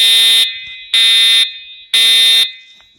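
A voice evacuation fire alarm at an airport blares in three loud, steady half-second bursts with short pauses between, harsh and piercing, with no voices.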